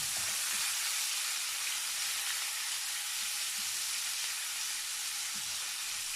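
Onions fry in leftover fish oil, giving a steady, soft sizzling hiss that continues evenly on its own without any talking.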